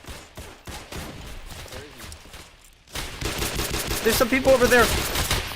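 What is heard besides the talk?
sniper gunfire in a Roblox video game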